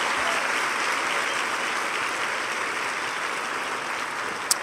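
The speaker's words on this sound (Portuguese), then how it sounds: "Se você orou isso com fé, aplauda Jesus com tudo que você tem." An audience in a church service claps together, a steady wash of applause that holds at an even level throughout and ends with one sharp clap.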